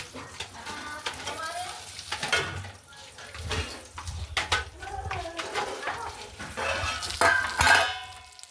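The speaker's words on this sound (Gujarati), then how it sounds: "ચાલો તો સેવ ટમેટાનું શાક વઘારવાની શરૂઆત કરી દીધી છે." Sev tomato curry frying in a pan, an uneven sizzle under frequent nearby chatter with occasional utensil clinks against the pot.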